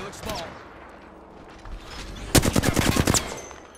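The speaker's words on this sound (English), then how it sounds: "Someone else is shooting at me." Close, loud automatic gunfire in the game Apex Legends, a tight burst of rapid shots following quieter scattered shots and game sounds, with talk nearby.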